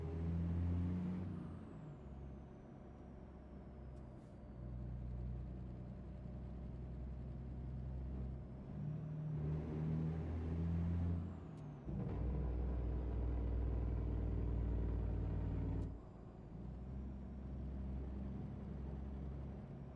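Engine braking from a Jake brake on a Western Star 49X truck in a trucking video game, a deep loud rumbling drone that swells and drops in several long surges with no talk.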